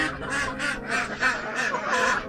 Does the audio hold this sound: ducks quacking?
yes